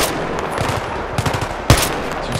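In a Battlefield 3 battle, gunfire is aimed at the player: short bursts of rifle or machine-gun shots crack nearby, ending in one louder sharp hit.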